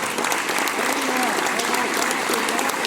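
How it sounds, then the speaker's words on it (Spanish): A dinner audience applauds at an aviation-themed gathering, a thick continuous burst of clapping from many people, fairly loud and close, with a voice faintly carrying underneath. "Merece un aplauso"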